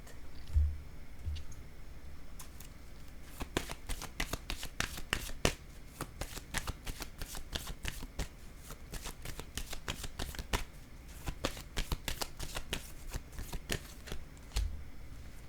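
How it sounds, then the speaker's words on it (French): Tarot cards are shuffled and drawn by hand in a quiet room: a long run of close, crisp riffling snaps and flicks in quick bursts, with no talking. "Je vais piger une autre carte."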